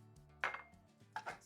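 Cooking oil is spread around a frying pan, making two quiet, short scraping bursts of a utensil against the metal, faint and close, with no voices.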